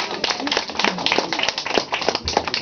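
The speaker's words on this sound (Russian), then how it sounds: "Ваші аплодисменты Андрею" An audience at a folk song contest in Odesa applauds a performer named Andrey: brisk, dense clapping that holds steady from start to finish, with faint voices mixed underneath.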